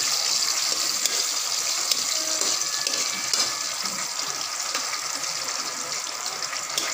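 Onion and garlic sauté in a pan with a steady, loud, bright sizzle that runs unbroken throughout, with no talking over it.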